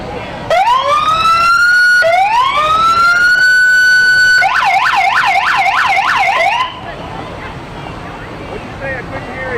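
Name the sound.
fire truck siren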